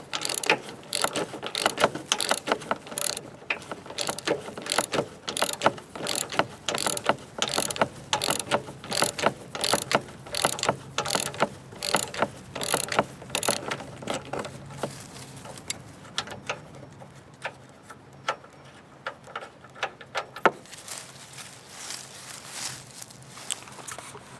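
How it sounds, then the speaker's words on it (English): A hand ratchet loosens the bolts holding a bull bar on a 2001 Ford F150 4x4, with bursts of rapid close clicking repeated over and over, then quieter handling and scattered clicks. "I'll loosen the bolts and then show you as I'm taking it off"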